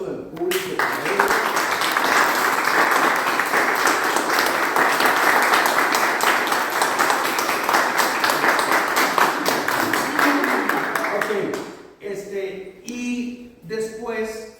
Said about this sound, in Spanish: primero le voy a pedir un aplauso del público para él.